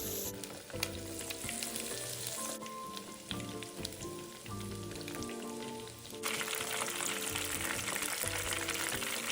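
Oil sizzles and crackles loudly and continuously as chicken wings deep-fry, a dense bubbling hiss with no talking.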